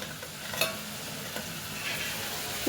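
Potatoes frying in a pan on a home stove, giving a steady close sizzle with a couple of soft stirring scrapes and no talking.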